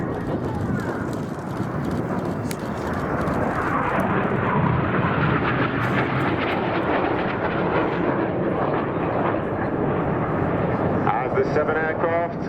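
Red Arrows aerobatic jets flying low over an RAF Cosford air show, a loud continuous roar that swells and lingers for many seconds while an announcer talks over it.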